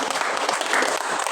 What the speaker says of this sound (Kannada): ಚಪ್ಪಾಳೆ ಹೊಡೆದು